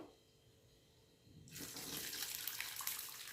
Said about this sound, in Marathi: यामधलं हे पा असं पाणी सगळं खाली पडतं